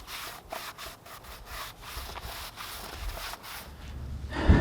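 Cloth rubbed over a Honda Accord engine part after a coolant drain, soft rhythmic swishing strokes in short bursts, close and quiet, ending in a brief louder knock.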